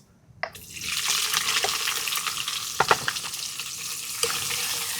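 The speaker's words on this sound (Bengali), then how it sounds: "ফোড়নে দিয়ে দিচ্ছি জিরে শুকনো লঙ্কা তেজপাতা কেটে রাখা পেঁয়াজ" Cumin seeds, dried red chilli, bay leaf and chopped onion hit hot oil with a sudden loud sizzle that settles into steady close frying, with a few clinks and scrapes of stirring.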